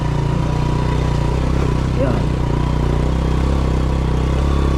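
A motorcycle rides along a rough side road, its engine a loud, steady drone close by, with occasional clattering bumps.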